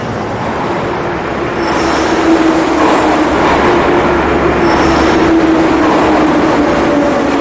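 Moscow Metro underground train running through a tunnel, a loud, steady rumble of wheels and rails with faint squeal, close and continuous with no talk.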